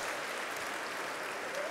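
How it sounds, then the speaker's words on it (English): An audience at a formal fellowship dinner claps in sustained, fairly distant applause that holds steady for the whole stretch. "Give her another round of applause for her passion"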